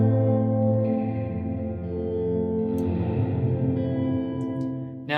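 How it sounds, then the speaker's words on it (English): A heavily reverberated sound in Logic Pro, with a huge washy reverb blended back in with the dry signal, forming a dense sustained tone with a long smeared tail that swells and fades over a few seconds. "this is a huge reverb and it's really overwhelming"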